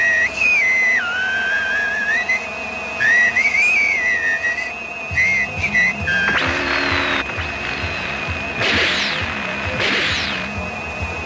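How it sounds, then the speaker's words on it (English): A cartoon command whistle gives shrill, warbling blasts that rise and fall over the first few seconds. Crashing, clattering effects and whooshes follow. "I will blow the whistle and paralyze them."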